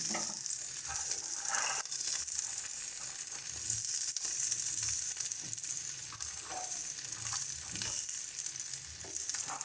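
Pre-fried potatoes and eggplant with sugar added to a hot pan of spiced greens and stirred, a continuous sizzle with scraping and crunching stir strokes repeating throughout.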